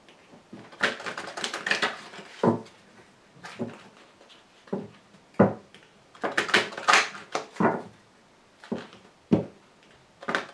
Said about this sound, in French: Alors je tire également une carte de l'archange Gabriel.